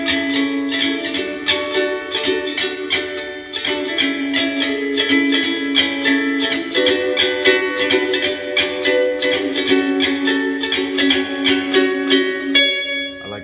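Ukulele strumming a chord progression, bright rhythmic strums at a steady pace with chord changes, close and clean with no voice over it.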